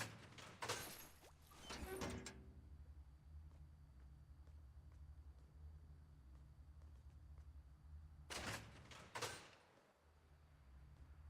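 A noisy door in the Fortnite video game opens with a loud burst of scraping and rattling, then the game's low background hum runs steadily until a second loud rattling burst near the end.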